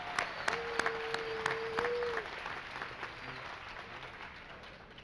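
A commencement audience at Claflin University applauds staff with sustained, moderately loud clapping, a sustained tone sounding over the start before the applause tapers off gradually.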